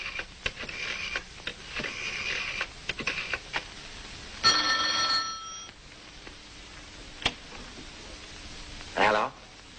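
An old-fashioned telephone bell rings in a brief burst in an indoor room, following earlier talk and rustling, with a short faint tail afterward.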